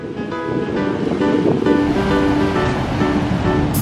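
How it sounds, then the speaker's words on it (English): Ocean waves crash at La Jolla Cove in a steady, loud wash of surf that rolls on without a break, with a little wind over the microphone. "Look at how the water crashes, guys."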